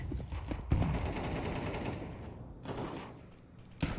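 A decoy grenade in Counter-Strike pops off fake gunshots, giving a quick run of distant rattling shots over game noise, with a sharper crack at the start and another near the end.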